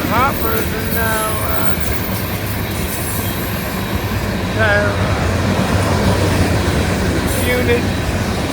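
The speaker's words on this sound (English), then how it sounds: "Could be a rock train. It's a rock train." A Florida East Coast rock train rolls past close by, a unit train of loaded hopper cars, with steady heavy rumble and wheel squeal rising and falling through the passage.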